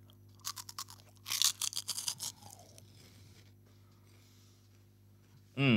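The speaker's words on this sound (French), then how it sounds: "je me suis fait un petit bol de grillons. Ça croque sous la dent, c'est génial." Cajun-spiced crickets crunched between the teeth, a run of sharp close crisp bites and chewing crackles that fade into softer chewing, with a low steady hum in the background.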